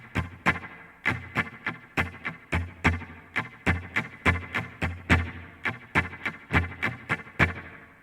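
Electric guitar strums the rhythm of a song, a steady pattern of sharp, evenly spaced chord hits with light effects, played alone and close for about eight seconds.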